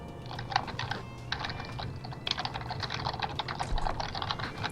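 Steady computer-keyboard typing in bursts of rapid key clicks separated by short pauses, close and moderately loud over a low background hum, with no talking.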